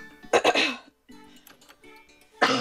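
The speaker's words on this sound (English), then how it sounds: "Please stop coughing" A person coughs several times in short harsh bursts during online group play, with a throat-clearing sound between the bursts and a final cough at the end, heard up close.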